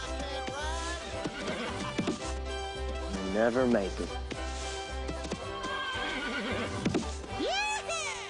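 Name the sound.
horse neighing and bucking in a cartoon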